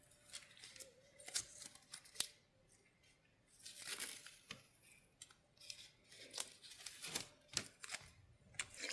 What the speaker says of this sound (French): Bref, on enlève les scotch.